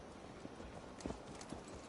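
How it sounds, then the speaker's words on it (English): Horse hooves clip-clopping in the Assassin's Creed Valhalla video game, a few faint, soft footfalls at a walking pace heard alone and low in the mix. "Let's return the horse."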